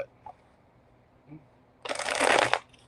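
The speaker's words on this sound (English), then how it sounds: "Let me get all my cards shuffled up here" A deck of tarot cards is shuffled in one brisk riffling burst lasting under a second, loud and close after a near-silent pause with a few faint soft handling sounds.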